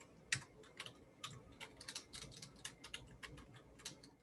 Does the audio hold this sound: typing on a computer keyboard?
yes